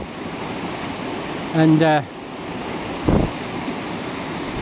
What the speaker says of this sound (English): a nice flow of water